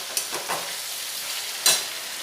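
Vegetables fry in a pan for a Bengali fish head dish, a quiet continuous sizzle broken by a few brief scraping strokes of stirring, close and fairly faint.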